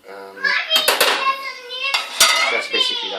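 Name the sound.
spoon stirring sushi rice in a bowl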